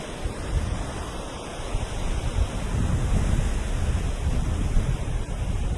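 Wind gusts and ocean waves wash beneath a beach pier in a steady, full roar that swells slightly midway, with no voices.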